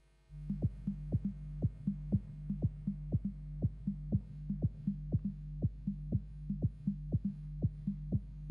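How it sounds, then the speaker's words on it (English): Minimal techno built from synthesized sine waves in WebAssembly: a steady low sine drone under a regular, evenly spaced pulse of soft clicky beats, about two per second, with no voices. "We have a sine wave here, as everything is so far, just sine waves."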